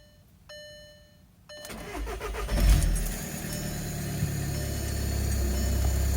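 A 2010 Volkswagen Jetta Sportwagen TDI diesel with an emissions delete, started for the first time: dashboard chimes, a short crank, then the engine catches loudly and settles into a steady, rough, close idle with a slight exhaust leak.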